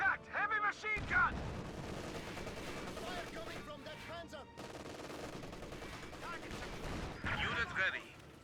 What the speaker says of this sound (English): Contact! Heavy machine gun!